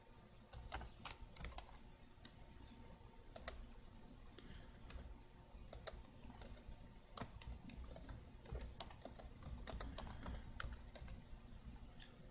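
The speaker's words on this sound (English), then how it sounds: "under description we can just type something that'll help remind us what this template is used" Steady typing on a computer keyboard, with quiet, close key clicks in an irregular, continuous patter and no voices.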